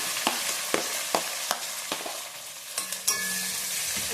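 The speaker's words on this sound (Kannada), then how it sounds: "ಈರುಳ್ಳಿ ಮೆಣಸಿನ್ಕಾಯಿ ಹಾಕ್ಕೊತಾ ಇದ್ದೀನಿ" Onions and green chillies fry in a pan for a vegetable paneer chapati roll filling, a close steady sizzle with a regular series of sharp spatula taps and scrapes about every half second, no voices.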